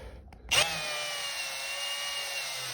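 After a brief quiet moment, a power drill with a 3mm reverse drill bit whirs to life in reverse and keeps running with a steady, high-pitched whine, drilling out a snapped bleed nipple on a seized Ford Sierra Cosworth four-pot brake caliper.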